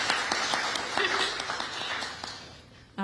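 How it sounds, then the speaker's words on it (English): An audience claps at a live jazz concert, mid-sized and fairly close, sustained applause that fades out near the end before a sudden burst of other sound. "Give yourselves a round of applause for coming out."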